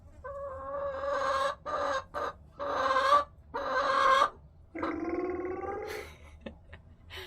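Backyard chickens cluck in a run of close, moderately loud phrases broken by short pauses, with a faint low hum underneath.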